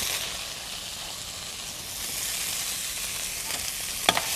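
Broccoli sizzles in hot oil for a lo mein stir-fry, a loud, steady frying hiss that continues throughout with a brief clatter near the end.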